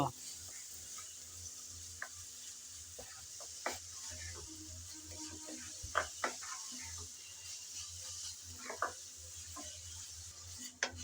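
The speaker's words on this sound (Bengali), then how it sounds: "লবণ আর গোলমরিচ দিয়ে আমি আবারও নেড়ে চেড়ে ভালো করে মিশিয়ে নেব" Vegetables for fried rice, seasoned with salt and pepper, are stirred in a pan with a soft sizzle beneath irregular scraping and tapping of a spatula, fairly quiet and close, with faint talk at moments.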